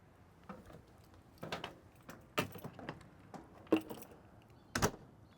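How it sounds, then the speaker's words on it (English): Keys and a car key fob jangling, several sharp metallic clinks and rattles in scattered bursts, close and fairly quiet with no talking. "let me just grab my keys here."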